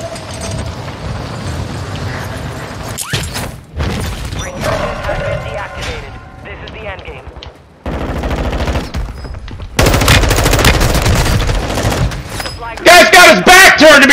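Loud Call of Duty video game gunfire comes in bursts of rapid automatic shots with crashes and impacts, some sections dense and others sparse, and it grows more intense toward the end.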